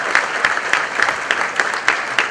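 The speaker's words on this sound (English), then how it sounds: "give all of yourselves a fantastic round of applause" Dealers applauding at an Indian launch event for a Tata Xenon Yodha pickup, close, steady clapping from a crowd with no voices over it.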